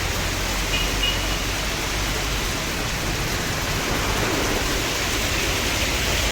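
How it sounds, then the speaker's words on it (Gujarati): Heavy rain pours steadily outside a factory that has shut down for the evening, a dense, unbroken roar of rainfall close by that holds at a constant loudness throughout, with no voices. "જોરદાર વરસાદ ચાલુ છે અત્યારે."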